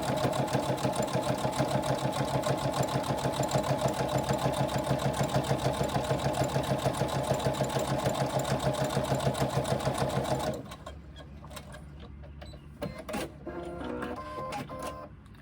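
A sewing machine runs steadily near at hand for about ten seconds, a fast even mechanical chatter as it stitches down the edge of the presser foot, then stops, leaving quiet handling noises.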